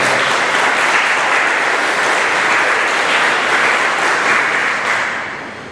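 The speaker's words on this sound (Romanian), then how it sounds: "Aplauze la voi." Sustained applause from a large audience at a live concert, dense steady clapping throughout that tapers slightly at the very end.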